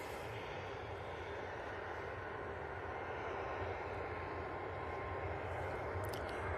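A Tui airliner accelerating on its takeoff roll produces a steady, broad jet roar. It sits at a distance and holds an even level throughout, with no voices over it.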